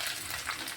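Curry leaves and fresh coriander fry in a pan with a steady, soft crackling sizzle, heard up close for a brief moment with no voices.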